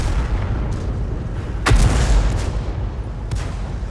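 A heavy 88 gun fires in a tank video game, sounding as a loud, close boom over a steady rumble of battle noise, followed by a fainter distant report.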